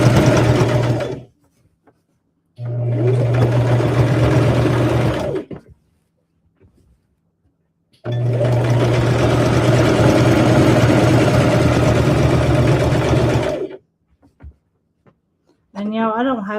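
A cheap Walmart sewing machine stitches a rag quilt seam in two long loud runs of steady whirring, with a short burst before them and brief quiet gaps between.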